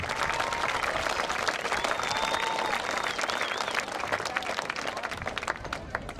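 A crowd at a high school football homecoming applauds the young ladies of the court, a dense continuous clapping with a faint voice or whistle rising briefly above it.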